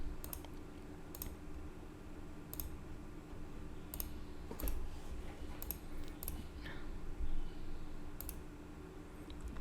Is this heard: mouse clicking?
yes